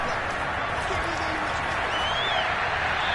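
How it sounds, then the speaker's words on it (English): A steady wash of crowd noise with scattered clapping fills the whole moment, broad and distant, like a stadium applauding. "We're going to give out a little applause on that play."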